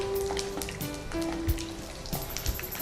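Garlic frying in hot oil for a dill leaves stir fry, a steady close crackling sizzle with a few faint utensil taps.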